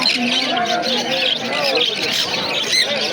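Sun conure parrots at a crowded Kolkata bird market squawk in a steady, shrill chorus close by, with people talking over the noise throughout.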